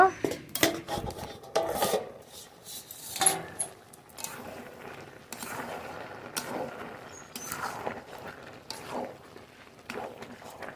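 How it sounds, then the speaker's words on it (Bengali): A lid is lifted off a cooking pot of bottle gourd in a home kitchen, giving metallic clinks and clatters, a few sharp knocks early, then softer scattered rattles and scrapes. "ঢাকনা তুলে নেব"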